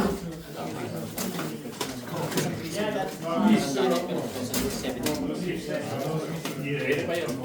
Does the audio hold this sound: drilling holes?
no